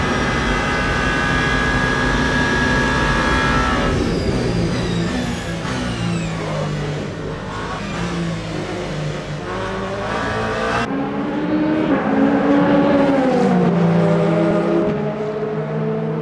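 The number 36 Alpine race car in Le Mans Ultimate, during the 24 Hours of Le Mans, roars loudly with a high-revving engine whine, shifting pitch through gear changes and braking into a chicane, with no talking.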